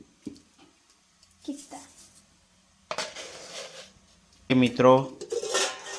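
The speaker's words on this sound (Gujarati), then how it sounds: "હવે આપણે શક્કર નાખીશું" Sugar poured into grated carrot halwa in a pan and stirred, bringing a few scattered metallic scrapes and clinks of spoon on pan, with a person talking between and over the sounds.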